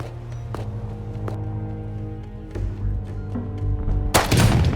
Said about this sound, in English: I hear so many AK shots.